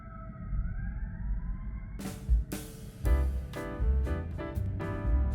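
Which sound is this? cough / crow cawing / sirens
sirens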